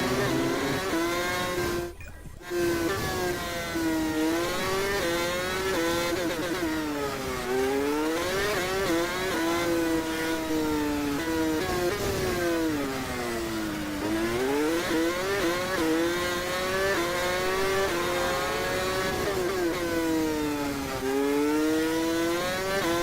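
A Formula 1 car engine in the F1 2016 racing game drones loudly and continuously, its pitch climbing through the gears and dipping repeatedly as the car brakes and accelerates around the track.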